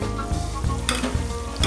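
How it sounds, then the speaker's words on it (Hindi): Spices (red chilli, korma masala, salt, garam masala and turmeric) frying in a pan for teenda gosht curry, a close, continuous sizzle broken by repeated scraping stirs. "ये सब कुछ डाल के अब हम इसको फ्राई करेंगे।"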